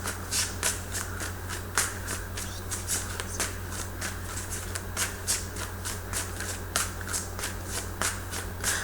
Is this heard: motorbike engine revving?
no